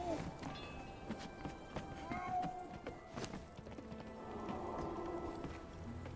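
Horse hooves clip-clop across the ground in the video game Conan Exiles, a rapid uneven patter of steps at moderate level, blended with game sounds throughout.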